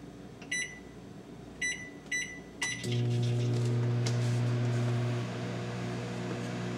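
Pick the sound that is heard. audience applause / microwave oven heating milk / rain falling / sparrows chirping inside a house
microwave oven heating milk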